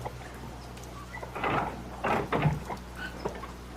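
Door being opened and closed as a sound effect in a 1974 radio drama, heard as a few close knocks and creaks in quick succession against a steady low hum.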